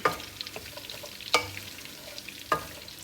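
Biryani spices and ingredients mixed in a frying pan give a soft, steady sizzle, with three sharp stirring scrapes and clacks spaced about a second apart. No talking.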